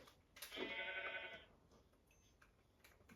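A single sheep bleat in a video game, a wavering cry lasting about a second, moderately close, followed by faint ticking and quiet background.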